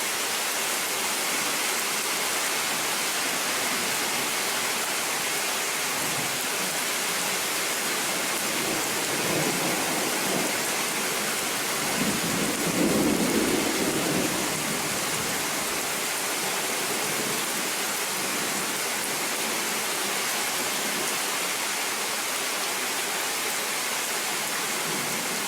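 Steady rain pours down during a thunderstorm with distant lightning, a dense continuous hiss that swells slightly midway, with no thunder clearly standing out and horses nearby.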